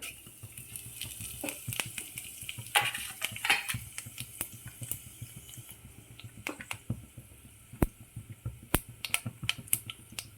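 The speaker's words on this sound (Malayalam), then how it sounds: "വെളിച്ചെണ്ണ ഒഴിച്ച് അങ്ങനെ പെരിഞ്ചീരകം ഇടുകയാണ്." Fennel seeds frying in hot coconut oil give a faint, steady crackle, dotted with sharp little pops and clicks from a pan on the stove.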